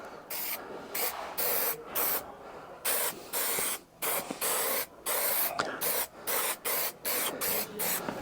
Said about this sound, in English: Look, a bit of overspray there.